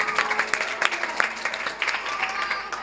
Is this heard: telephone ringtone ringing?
no